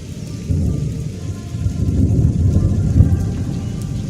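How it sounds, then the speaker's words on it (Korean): Distant thunder rolls in a low, continuous rumble over steady light rain on an early, foggy morning outdoors, loud and without any voices. "바로 그때 멀리서 천둥 소리가 들려."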